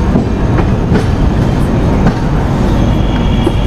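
A passenger train runs through the night from Kolkata toward Lal Kuan Junction, its loud, close rumble mixed with rhythmic wheel clacks and faint metallic squeals.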